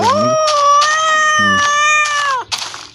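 A cat in the game Minecraft meows loudly and close, three drawn-out wavering meows in quick succession over a few seconds, then a short burst of rustling noise at the end.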